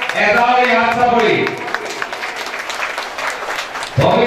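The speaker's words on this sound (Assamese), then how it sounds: "সকলো শিল্পীৰ কাৰণে এটা হাত চাপৰি" An audience claps for the child performers of a Bhaona devotional play. A voice is heard at first, then a broad, even wash of applause continues and a voice returns at the end.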